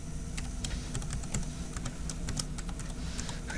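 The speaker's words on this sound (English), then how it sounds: "I typed in my password" Password being typed on a computer keyboard: a steady run of quick, light key clicks over a constant low background hum, fairly close and even in level.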